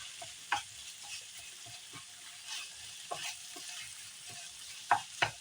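Minced meat and onions frying for chilli con carne, a quiet sizzle under intermittent scraping and stirring strokes, with a few sharper clicks of the utensil against the pan near the end.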